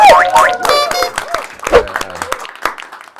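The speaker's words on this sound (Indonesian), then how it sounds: "Tepuk tangan semuanya dong" An audience at a Bali podcast session breaks into scattered, uneven clapping, with voices calling out and talking over the applause close by.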